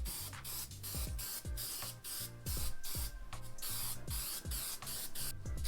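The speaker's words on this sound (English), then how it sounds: "Now applying about 7 coats of polyacrylic spray" Repeated short hissing bursts from an aerosol can spraying polyacrylic finish, coming in a quick uneven rhythm with small clicks between them.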